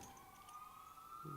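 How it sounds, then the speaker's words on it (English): A faint, steady siren tone in Monster Hunter, rising slowly in pitch, sustained throughout with a soft low hum beneath. "Hey, look, it's another siren."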